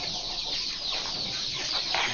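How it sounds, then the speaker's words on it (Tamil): A one-month-old native country chicken chick on a farm gives soft, high peeping and clucking calls over a constant hiss of farmyard background, brief and fairly faint. "இது வந்து ஒரு மாதம் வயசுள்ள நாட்டுக்கோழி குஞ்சு."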